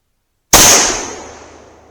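A single sharp gunshot from a .357 Magnum firearm firing Remington ammunition, a loud crack after silence followed by a decaying ring-out, no talking.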